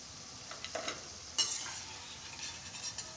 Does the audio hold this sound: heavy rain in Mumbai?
no